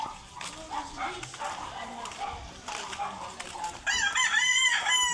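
Outdoor chatter and background noise, then a rooster crows loudly near the end, a long drawn-out call.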